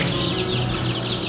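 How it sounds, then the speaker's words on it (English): Baby chicks cheep continuously in a dense, chattering chorus on a farm, close by and fairly loud, with no speech over them. "You may hear the cheeping behind me."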